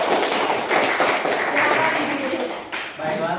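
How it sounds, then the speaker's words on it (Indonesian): Classroom applause for a student group's presentation, a dense patter of many hands clapping with children's voices mixed in throughout. "Tepuk tangan dulu."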